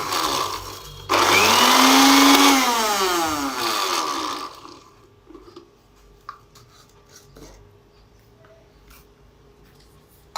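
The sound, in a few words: electric grinder coarsely grinding spices for chaat masala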